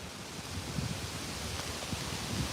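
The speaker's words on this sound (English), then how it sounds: "It's definitely windy out here." Wind blows steadily outdoors as a faint, even broadband rush over a few seconds with no voices.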